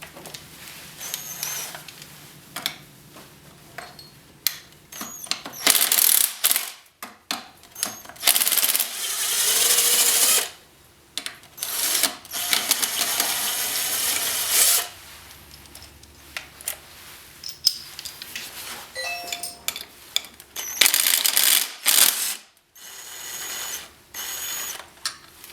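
Tools work on a motorcycle handlebar clamp, giving intermittent mechanical clicks, ratcheting and metallic rattles with scattered bursts and short silent gaps, close up and without speech.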